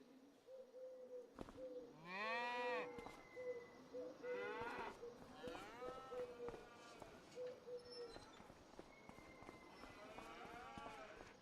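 Cows mooing on a pasture-fed dairy farm in Farming Simulator 25, several drawn-out moos overlapping at moderate distance, with bird chirps and a steady ambient background between calls.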